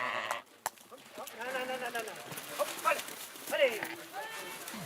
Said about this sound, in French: le temps de la tonte est arrivé pour les moutons de Brigitte